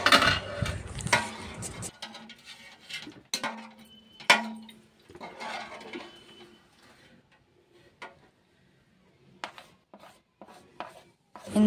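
A spoon stirs ginger garlic paste into water in a bowl for fish biryani, making soft, uneven scraping and swishing strokes with quiet pauses between bursts.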